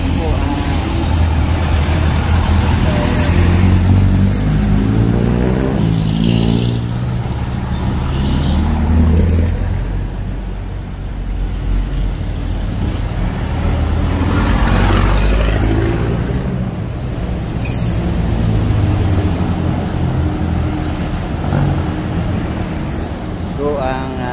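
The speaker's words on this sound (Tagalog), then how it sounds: "Ayan, naka-traffic po." Vehicles sit idling in a street traffic jam near a Walter Mart, cars and trucks rumbling steadily with low engine drone throughout while people talk over the noise.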